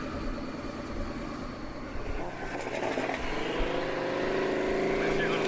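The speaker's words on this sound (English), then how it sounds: "We got a BMW in the other car versus another Mustang" Street race cars, a BMW against a twin-turbo 5.0 Mustang, roar steadily in Texas with a rising engine note toward the end, loud and continuous as a voice talks over it.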